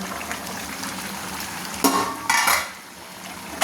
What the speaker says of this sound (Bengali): চাপাটা আমি এখন তুলে নিচ্ছি